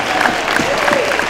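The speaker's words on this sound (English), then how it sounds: "Give him a big round of applause." Brief burst of audience applause and crowd noise at a police recognition event, steady clapping filling the short moment with faint voices mixed in.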